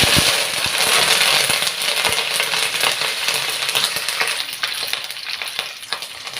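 Curry leaves frying in hot oil in a pan for white pumpkin kuzhambu, a loud, dense, close sizzle with continuous crackling pops that eases slightly over time.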